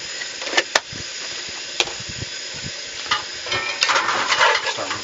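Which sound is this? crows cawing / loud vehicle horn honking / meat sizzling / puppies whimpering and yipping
meat sizzling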